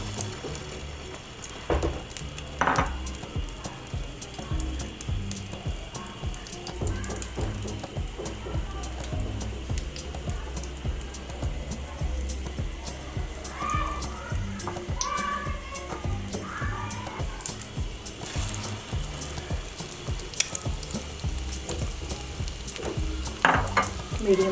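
Egg-dipped, crumb-coated bread rolls frying in oil over a medium flame, a steady dense sizzle running throughout with occasional sharper crackles and light utensil clinks, no talking.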